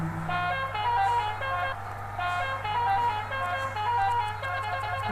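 An ambulance siren rings out in Bus Simulator Indonesia during a rainy drive, a steady, fairly loud tonal wail with repeating melodic notes that holds throughout.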